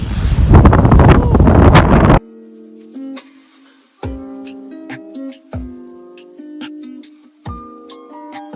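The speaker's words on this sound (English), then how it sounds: "that wind is no joke" Strong cold wind from a snowstorm in New Mexico roars loudly against the microphone for about two seconds, then cuts out, leaving quieter tonal sounds and a few scattered thumps.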